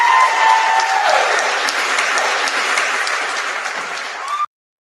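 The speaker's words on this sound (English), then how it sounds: "that deserves some more applause" Loud, dense crowd applause fills the room at a live radio-show event, sustained and steady with cheering voices mixed in, then cutting off abruptly.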